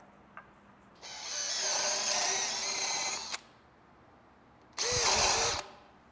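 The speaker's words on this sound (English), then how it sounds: "We're going to drill in the bottom of our post so that those fasteners sit within the post" A power drill bores holes into the bottom of a wooden post, with two loud whirring bursts close by. The first runs about two seconds and the second is shorter, and they are separated by quiet.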